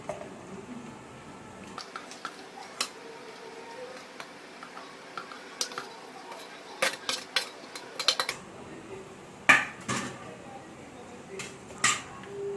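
Tomato chutney ingredients going into a mixer jar in a home kitchen: sparse clinks, taps and spoon scrapes against the jar, irregular and fairly quiet, with a few sharper knocks near the end.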